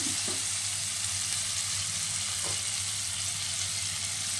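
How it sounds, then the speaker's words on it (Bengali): Boiled, salted lentils go into a fully sautéed spice paste for an egg curry, giving a constant hissing sizzle with a couple of faint stirring taps. "এই সময় দিয়ে দেবো তরকার ডালটা।"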